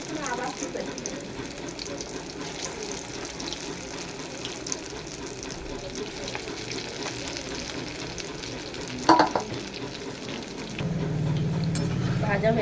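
Lentil and pea pakoras fry in hot oil, giving a soft, steady bubbling sizzle with a brief clatter near the end, followed by a low hum.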